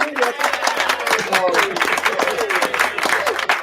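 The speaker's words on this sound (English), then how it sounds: "Give him a round of applause for that." A small studio audience applauds a guest on a talk show, with brisk, close clapping and overlapping whoops and talk throughout.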